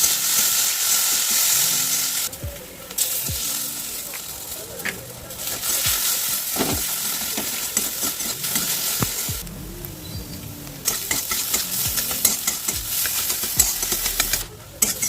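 Egg and potato bhujia sizzles steadily in a frying pan, a continuous hiss broken by scraping stirs and clinks of the spatula, with brief quieter pauses; no voices.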